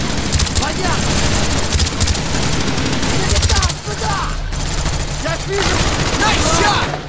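Gunfire in Call of Duty Black Ops: dense, loud bursts of automatic weapons and rapid single shots rattle almost without pause, with occasional booms, while players talk and shout over the battle.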